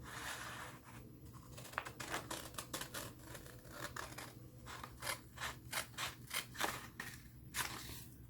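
Scissors snip through a 10 cm paper square in a run of quick, crisp cuts, faint and close, with light rustling of paper between the snips.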